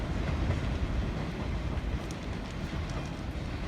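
Steady heavy rumble of a Jamaican freight train passing nearby, wagons rolling with a faint clickety-clack over the rails, loud and continuous with no voices.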